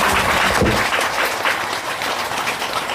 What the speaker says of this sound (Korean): 이 노래를 만들어주신 이상숙 대천사님께도 큰 박수 올립니다